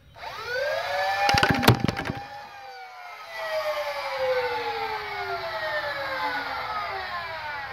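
Full-auto foam dart blaster bursting off a rapid string of shots, a brief rattling volley over a high motor whine, then the flywheel motor winding down in a long falling pitch that fades over several seconds.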